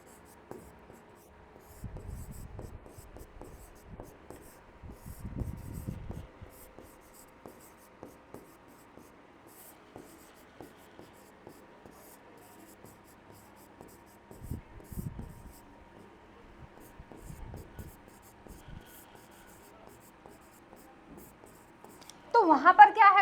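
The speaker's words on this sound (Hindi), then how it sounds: "मैं यहाँ पर लिख देती हूँ," Faint scratches of a pen or chalk writing by hand in a quiet room come in short bursts with long gaps between them, ending in a louder, brighter scrape.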